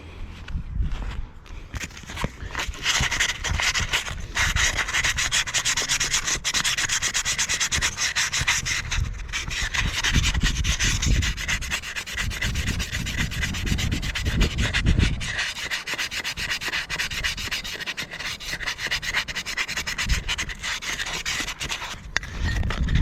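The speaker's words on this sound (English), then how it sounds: "All I can do, just file it, sand it." Steady abrasive rasping and rubbing as a file and sandpaper work over the rusty clutch of a Stihl FS130 trimmer, continuous and close with a brief lull near the middle, no talk.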